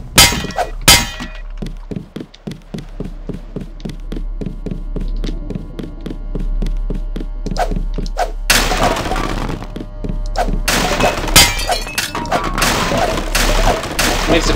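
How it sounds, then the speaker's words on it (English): In the video game Deus Ex, the Dragon's Tooth sword slashes through objects in an apartment, producing a rapid series of thunks and taps followed by loud crashing, shattering breaks, close and dense. "It makes a very satisfying crashing noise when you slash something up with the Dragon's Tooth"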